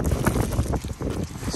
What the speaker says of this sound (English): This wind out here is crazy.